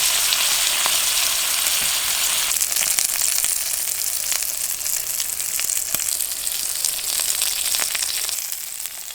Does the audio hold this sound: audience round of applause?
no